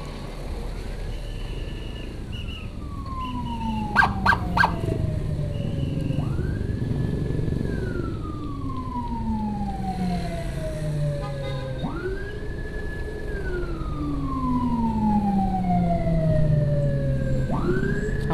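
An ambulance siren wails in repeated rising-and-falling sweeps, steadily loud with a few sharp horn blasts midway, over continuous traffic rumble while the vehicle approaches during a body escort.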